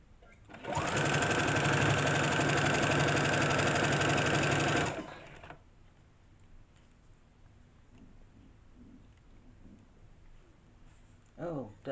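A sewing machine stitching a hem on stretch fabric runs steadily for about four seconds with a loud, even whir, then stops, leaving quiet room noise and faint handling sounds.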